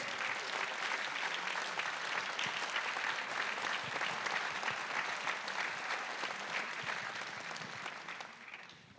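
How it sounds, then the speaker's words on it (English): A large audience at the Sixth Summit of First Ladies and Gentlemen in Kyiv claps in sustained, dense applause, steady and full for most of its length before tapering slightly at the end. "Once again, your applause, please"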